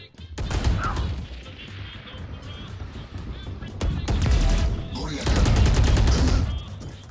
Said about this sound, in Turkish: Adam da koşarak vuruyor.